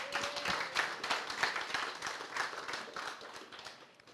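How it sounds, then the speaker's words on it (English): Applause for police officers at a recognition ceremony luncheon, a fairly quiet room of scattered hand claps with uneven rhythm, moderately distant and steady throughout. "give yourselves another round of applause"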